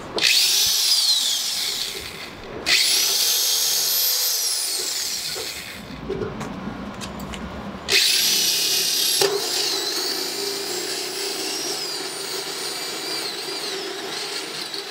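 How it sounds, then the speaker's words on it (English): Power drill boring a hole through a plastic rain barrel, several high whining bursts that rev up and wind down, separated by short pauses and handling noise, close and loud. "drill the hole."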